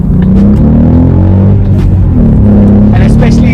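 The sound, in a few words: Volkswagen Polo GT 1-liter TSI manual hatchback driving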